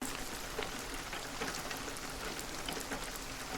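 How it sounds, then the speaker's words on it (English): Steady soft rain patter, a dense hiss of fine drops spread evenly throughout, quiet and continuous with no voices. "Laying just beneath these guitars in the mix is some ambient rain."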